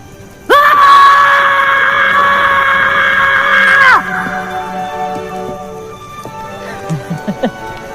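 Loud, sustained cry from a scene in a 2020 Hindi movie, a shrill raw yell that holds for about three seconds before cutting to quieter background sound with a few faint short noises at the end.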